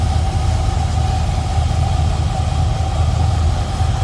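A 1960 Buick Invicta Custom Convertible engine idles smoothly with a steady, even low rumble and a faint mechanical hum, close and continuous with no talk over it.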